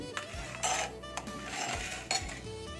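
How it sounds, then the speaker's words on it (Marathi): A steel mixer jar being picked up and handled in a kitchen, giving a few close metallic clinks and knocks over light background noise. "इथे मी हेच मिक्सरचं भांडं घेतलंय"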